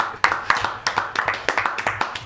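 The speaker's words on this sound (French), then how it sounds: "Donc c'est pour ça que je vous dis de l'applaudir. Thérapie musicale, on applaudit." Several people in a show audience clap in a loose, uneven rhythm, sharp individual claps rising and falling, fairly close, over a murmur of room noise.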